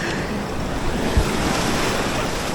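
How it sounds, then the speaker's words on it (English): Rough sea on a Jamaican reef fishing trip, with waves and surf washing steadily around a boat amid strong wind noise on the microphone and one brief low thump, no talking. "Yeah man, the water rough man."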